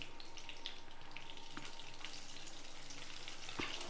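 Dried red chilies and a sprig of curry leaves crackle in hot groundnut oil, a steady close sizzle with scattered pops and one sharper crack near the end, no voices.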